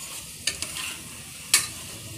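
Chicken for biryani sizzles steadily in a hot pan while a spatula scrapes through it in two or three sharp, close strokes.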